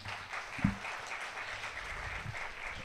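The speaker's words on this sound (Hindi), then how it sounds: "बच्ची के लिए बहुत सी तालियां" Audience applause for a schoolgirl at a children's assembly in Karachi: steady, moderately loud clapping from a crowd that runs for the whole stretch, with one sharper burst early on and no talking.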